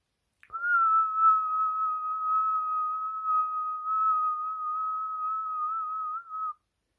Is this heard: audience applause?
no